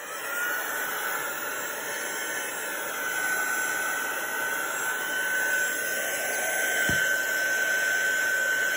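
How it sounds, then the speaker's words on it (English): A heat gun gives a steady, loud blowing roar with a faint high whine throughout, close and unbroken, with a brief click near the end. "So now I'm going to get a heat gun."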